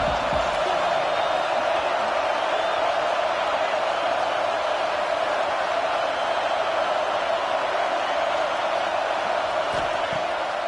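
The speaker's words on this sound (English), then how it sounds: "Here comes the noise from this big crowd in Happy Valley on third down." Big crowd in Happy Valley at a Penn State football game sustains a loud, unbroken roar on third down, a dense, even wall of noise throughout.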